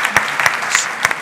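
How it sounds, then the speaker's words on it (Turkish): A small crowd applauds to welcome someone at a women's solidarity gathering in Safranbolu, Turkey; a few sharp, scattered claps stand out over a dense, close patter of clapping hands. "Buyurun alkışlarla."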